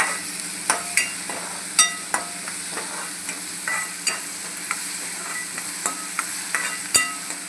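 Onion with salt fries in a pan under a soft, steady sizzle, while a spoon stirs it in a string of sharp scrapes and taps against the pan, close and fairly quiet.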